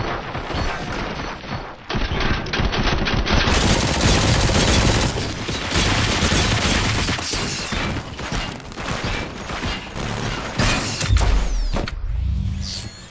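Sustained bursts of heavy automatic gunfire in the video game RoboCop: Rogue City, loud and nearly continuous rattling with mechanical clanks, easing off briefly near the end.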